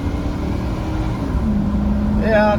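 2006 Lincoln Mark LT pickup with a 5.4 engine and 181k miles accelerating from inside the cab, a steady low engine drone rising gradually in pitch, with a voice speaking briefly at the end.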